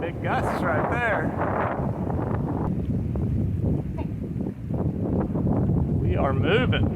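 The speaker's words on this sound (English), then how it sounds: "Big gusts right there." Strong wind gusts buffet the microphone aboard a sailboat heading along the coast of Martinique, a dense, continuous roar with surging rumbles, while someone talks over it.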